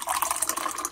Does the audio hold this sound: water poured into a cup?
yes